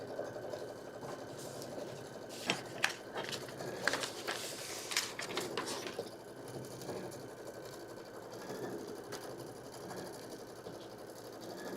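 A sewing machine stitches fabric in quick, rhythmic bursts, with the busiest stitching early on, then a softer, steadier hum. It plays fairly quietly and alone, with no talk.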